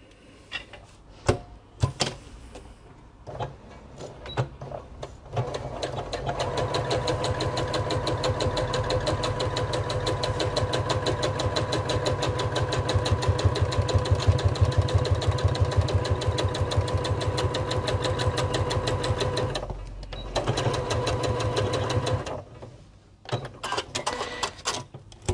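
A sewing machine stitches the pocket lining of a Sew Together Bag in a long, steady, rapid mechanical run after a few short starts, then stops and resumes briefly near the end.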